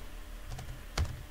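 Command-line typing on a computer keyboard, with a few soft key taps and one sharper, louder keystroke near the end, close and otherwise quiet.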